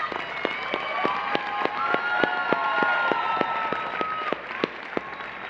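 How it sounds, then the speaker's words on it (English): Audience at a 2016 undergraduate honors convocation applauding students, a moderate round of clapping in a hall with sharp individual claps standing out from the crowd, steady for several seconds. "Please give these students your applause."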